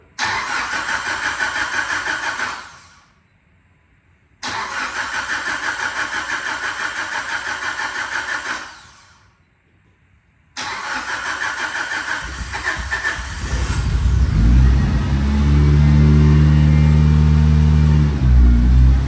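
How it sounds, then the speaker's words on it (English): A Mitsubishi Lancer Evo 8 coming out of months in storage cranks through two loud, sustained starter attempts separated by silence, then a third crank catches and the engine fires, settling into a deep, steady idle. "hopefully fire it up and drive it out"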